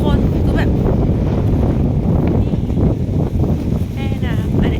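Strong, dry wind roars steadily across the microphone beside a river during fishing with a lift net, a loud, constant rush that does not let up, with voices faintly audible underneath.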